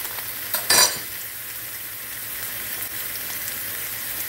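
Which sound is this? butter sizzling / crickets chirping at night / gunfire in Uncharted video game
butter sizzling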